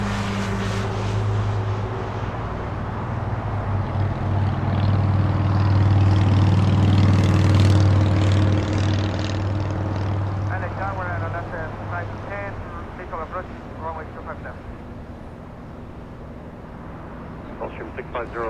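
A Boeing 747 taxis at Los Angeles International Airport after landing on runway 24 right. A low, heavy engine rumble swells and then fades over the first dozen seconds, and a voice talks over the quieter tail.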